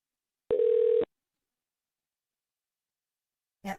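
A single telephone tone pulse about half a second long sounds alone, then silence, then a brief click or handset noise near the end, as a call goes unanswered.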